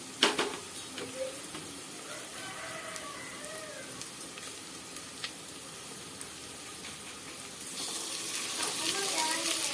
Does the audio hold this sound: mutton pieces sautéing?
yes